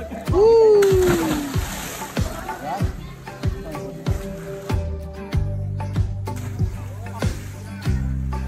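People bathe and swim in a mountain river, with a series of close, sharp splashes and sloshes in an irregular rhythm under voices and a shout.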